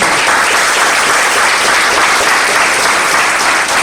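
Loud, sustained applause from a large seated audience at a business success seminar, many hands clapping in a dense, even roar for the whole stretch, with no voices over it.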